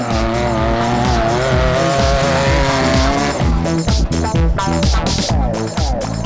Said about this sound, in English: Great sounding production car there in that Toyota Hilux.